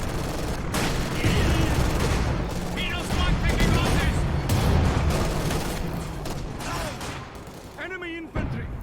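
Gunfire from snipers and troops in a Company of Heroes 2 2vs2 match, with bursts of shots and booms layered under steady commentary.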